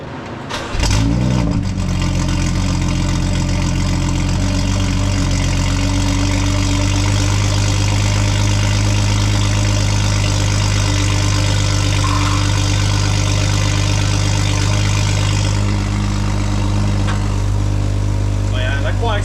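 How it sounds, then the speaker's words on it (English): BMW car with a new exhaust idling steadily after a cold start, a deep, even rumble heard up close that runs unbroken from start to finish, with a brief catch of engine noise near the beginning. "And that's a cold start, so the car's gonna be way quieter."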